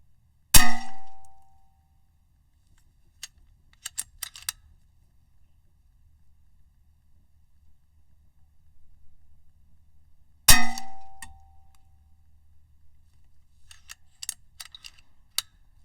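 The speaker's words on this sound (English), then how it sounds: "Now let's go ahead and fire a few shots over the chronograph." Two sharp shots from a Vixen .22 caliber air rifle fired over a chronograph, about ten seconds apart, each a crisp loud crack with a short ring, faint clicks and handling noises in between.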